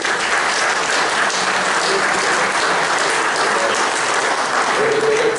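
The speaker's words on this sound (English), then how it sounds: "So if we give those guys a round of applause, please." Audience at a community forum applauds local officials, loud, steady, dense clapping filling the room throughout, with faint voices mixed underneath.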